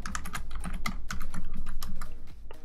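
Fast, irregular clicking of keys being typed on a computer keyboard, close and continuous, with no speech.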